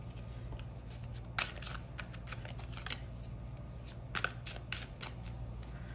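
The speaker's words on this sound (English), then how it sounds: "I apologize if I shuffle way worse than how I used to." Tarot cards are shuffled in quick, soft, irregular bursts of riffling and slapping, close up and fairly quiet, with no voices.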